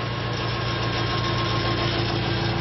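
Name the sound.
generator decelerating in regenerative braking mode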